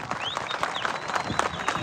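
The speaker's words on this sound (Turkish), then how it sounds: "günün ilk e, yaş grubundaki birincisini alkışlayalım mı arkadaşlar?" A crowd at an outdoor Kangal dog contest in Afyon applauds a first-place young dog, steady dense clapping running throughout with a voice faintly mixed in.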